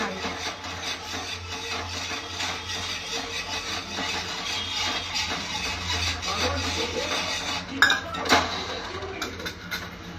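Pasta stirred in a cooking pan, with steady scraping and clinking of a utensil against the pan, a sizzling background and a few sharper knocks near the end.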